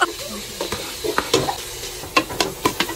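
Onions sautéing in a pan for sopas, with a soft background sizzle broken by several scraping stir strokes of a utensil against the pan, close and fairly loud, no talk.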